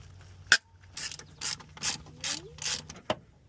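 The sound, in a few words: ratchet removing starter bolts on a car transmission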